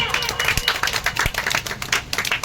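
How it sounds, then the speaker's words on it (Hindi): An audience at a Teacher's Day program at a maths and reasoning coaching centre claps in a lively, uneven burst of many hands, steady throughout. "एक बार जोरदार तालियां।"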